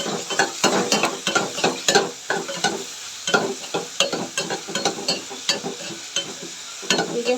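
Green chillies fry in a pan and are stirred with a spoon: rhythmic scraping strokes come in quick bursts over a soft, steady sizzle.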